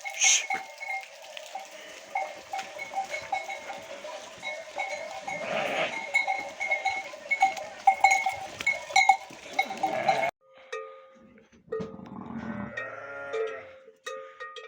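A black ewe that has just lambed bleats outdoors on a hillside in the Turkish countryside. Cowbells clink repeatedly over scattered livestock calls, and one clear bleat comes near the end.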